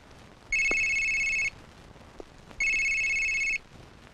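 A mobile phone rings in two separate bursts of bright electronic tones, each lasting about a second, clear and fairly close, with a quiet pause between them and no talking.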